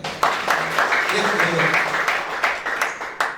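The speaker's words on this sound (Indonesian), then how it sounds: "Tepuk tangan." A church congregation claps at a worship service, a loose rhythmic clapping with distinct sharp hand claps standing out, fairly close and mixed with murmured voices.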